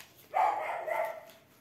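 A single dog gives one drawn-out bark or yelp lasting about a second, fairly close and moderately loud, with no talk over it.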